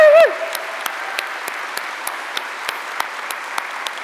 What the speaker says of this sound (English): So should we have a round of applause for the OU team and the academics?